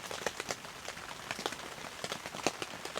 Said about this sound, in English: Getting to listen to the rain and sit in a chair next to a warm fire,